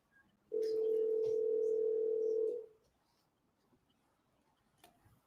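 A telephone dial tone from a recorded phone call sounds as one steady, loud hum lasting about two seconds, followed by faint clicks and quiet line noise.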